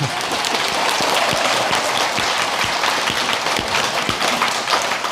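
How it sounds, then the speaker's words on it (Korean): Pilgrims at a Buddhist temple prayer gathering at Gakwonsa in Cheonan clap together in sustained applause, a thick wash of hands with a few sharper individual claps standing out, loud and continuous throughout. "우리 최상의 날씨를 베풀어 주신 우리 천신님들께 우리 박수 한번 보내드릴까요?"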